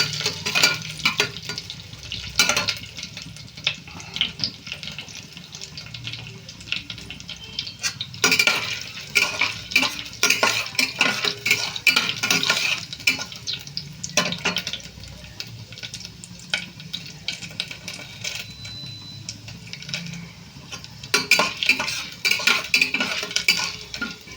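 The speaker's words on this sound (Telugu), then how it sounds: "ముందుగా శనగపప్పు అయితే ఫ్రై చేస్తున్నాను" Chana dal fries in a pan for a healthy upma, a steady close sizzle broken by repeated scraping and stirring clinks of a spoon against metal throughout, with no talking.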